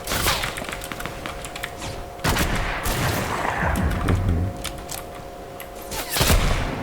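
Fortnite battle royale firefight with several players shooting: scattered gunshots and quick bursts, some sharp and nearby, others fainter and farther off, over steady game ambience.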